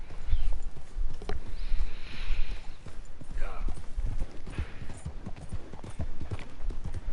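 Horse hooves clip-clop in a steady rhythm during riding in Red Dead Redemption 2, with background noise and game sounds underneath, close and moderately loud.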